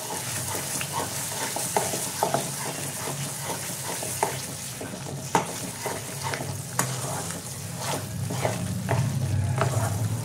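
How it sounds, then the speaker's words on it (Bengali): Butter goes into a pan of frying chicken masala and is stirred, a moderate, continuous sizzle punctuated by irregular spoon scrapes and clicks against the pan, with no talking. "এর মধ্যে আমি বাটার দিয়ে দিলাম। একটু নাড়বো এটা।"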